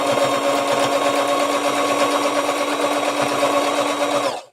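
A sewing machine runs steadily as it stitches a doll dress of fabric with lace and trim, a continuous close, loud whirring hum that holds for about four seconds before stopping abruptly.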